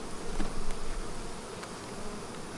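Honey bees buzzing around a weak, struggling beehive: a dense, steady hum close by, with a brief louder swell early on and a few individual bees passing near.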